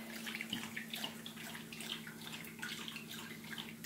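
A dog laps water from its water bowl in a kitchen, a steady, rapid, faint wet splashing and lapping that continues throughout, over a constant low electrical hum.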